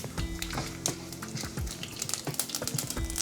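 Urad dal, mustard seeds and cumin seeds frying in hot oil, giving a steady crackling sizzle with sharp pops and spatters, close and fairly loud, with no talking.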